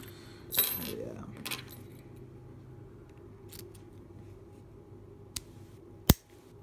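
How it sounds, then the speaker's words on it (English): Keys jangle briefly near a padlock during a lock-picking session, with a burst of metallic clinks early on and a few sharp clicks and taps afterward, close and fairly quiet. "Where's the keys? There they are."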